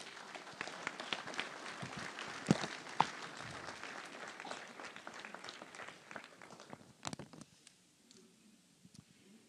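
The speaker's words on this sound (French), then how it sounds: "Bravo à Christophe, on peut l'applaudir même s'il n'est pas là aujourd'hui." An audience at a town hall New Year's wishes ceremony claps in a scattered, moderately distant round of applause that thins out and fades toward the end.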